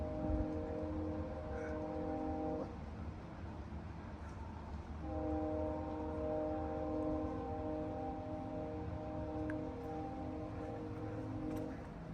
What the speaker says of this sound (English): Hear that train?